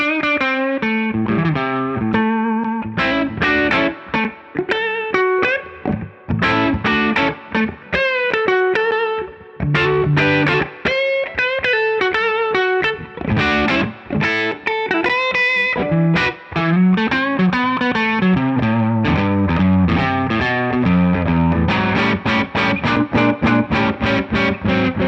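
Electric guitar on the neck pickup played through a Wampler Pantheon pedal set for very light overdrive with added reverb, ringing chords and single-note phrases sounding continuously, clear and close, with no talking.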